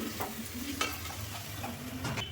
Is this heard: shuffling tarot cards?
no